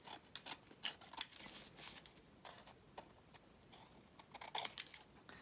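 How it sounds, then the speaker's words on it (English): Scissors snipping skinny paper tag strips for card-making, quiet and close, with a series of irregular short crisp cuts and small rustles of paper, no talking. "I'm gonna go ahead and trim these two"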